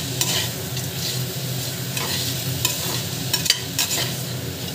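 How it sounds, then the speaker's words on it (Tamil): Vegetables for a dhaba-style vegetable biryani sautéed with salt in a pan, a steady scraping stir with soft sizzling underneath and a few sharper utensil clinks, close and continuous. "நல்லா வந்து வதக்கி வச்சுக்கோங்க."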